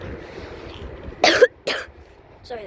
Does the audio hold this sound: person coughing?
yes